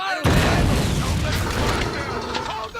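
Dense, continuous small arms fire and booming explosions from the game Men of War: Assault Squad 2 during a Union siege of a Confederate fort, loud and overlapping throughout.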